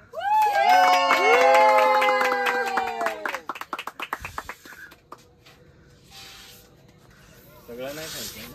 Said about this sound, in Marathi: टाळ्या वाजवा टाळ्या वाजवा.